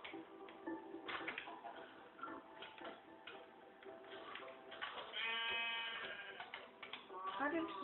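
Blocky sheep in the video game Minecraft bleat several times amid clicking game ticks and other in-game sounds, with a player talking over much of it.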